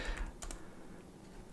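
Fingers tap a computer keyboard in a quiet room, a short run of soft, close keystrokes with a couple of sharper clicks.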